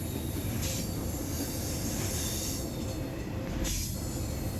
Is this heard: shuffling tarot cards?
no